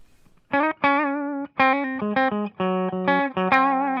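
A PRS SE 245 electric guitar on a clean tone plays a short melodic line of sustained single notes, each ringing cleanly with bright harmonics, separated by brief gaps.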